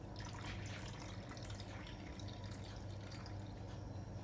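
Cold tap water runs and splashes steadily into a measuring container to make half a pint, a continuous faint trickling flow without talk.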